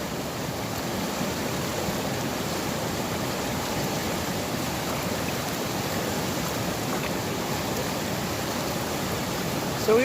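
Creek water flows with a constant broadband rushing hiss, steady and fairly close, with no voices over it.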